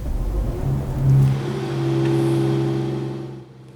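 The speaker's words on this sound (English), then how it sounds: "let's see first what the startup is like. I'm going to start it in comfort." A Mercedes-AMG E53 hybrid coupé starting in Comfort mode gives a brief, subdued engine catch and a smooth low hum that settles and fades, close and fairly quiet.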